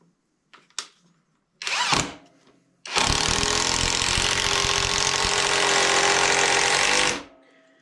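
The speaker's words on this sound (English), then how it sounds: "Okay, so let's go ahead and drive. We're going to start it with a 4-inch screw on this one." A Greenworks power drill drives a 4-inch screw, starting with a couple of short trigger bursts before a sustained loud, steady whir of about four seconds close by, then stopping.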